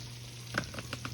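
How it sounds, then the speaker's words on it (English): Quiet sizzling of country-style pork ribs frying in a skillet, with a low hum underneath and a few light clicks and pops. "I got them frying right there."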